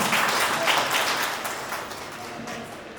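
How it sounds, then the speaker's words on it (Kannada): Audience applause for farmers at a cultural event in Madhugiri, a dense wash of clapping that holds steady throughout and eases slightly toward the end. "ನಿಮ್ಗೆಲ್ಲರೂ ಒಂದು ದೊಡ್ಡ ಚಪ್ಪಾಳೆ ಬರುತ್ತೆ."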